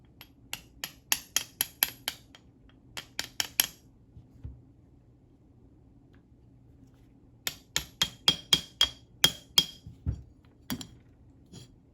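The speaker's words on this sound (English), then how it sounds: "Take a small hammer" Rapid bursts of sharp metallic taps from a small hammer driving pins through a part on a 1969 Mustang, two clusters of quick strikes separated by a quiet pause, close and crisp.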